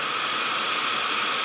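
A hair dryer running with both fan and heat at their top level 3 setting, drawing close to 1500 watts from a portable solar power station, gives a steady, loud, even broadband whoosh that holds unchanged throughout.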